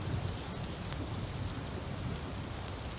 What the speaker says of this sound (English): I like the rain on the windows.